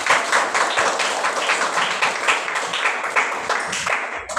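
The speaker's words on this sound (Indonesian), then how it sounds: "Tepuk tangan." A classroom of students claps hands together in a steady, dense burst of applause lasting several seconds, close and fairly loud, fading slightly at the end.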